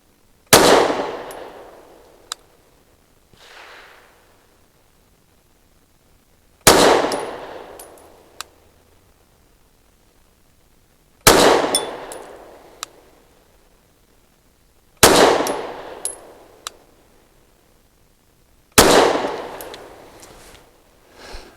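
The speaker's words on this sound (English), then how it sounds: "After shots with the Mete MC9 Prime." Five loud, sharp pistol shots from a Canik Mete MC9 Prime firing PMC Bronze 115-grain ammunition at a 7-yard range, spaced several seconds apart, each followed by a decaying echo and a fainter secondary crack.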